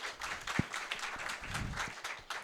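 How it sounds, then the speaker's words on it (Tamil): Audience applause welcomes a speaker at an anniversary debate event of a Tamil literary society, a soft, steady patter of clapping from a medium-sized crowd, moderately distant and fairly faint throughout. "ஒரு கைத்தட்டலோடு வரவேற்போம்."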